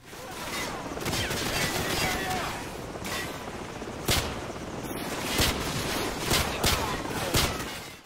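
Rapid bursts of M1911 pistol fire from the video game Call of Duty 4: Modern Warfare, dense and loud, mixed with a continuous wash of gunfire and battle noise throughout.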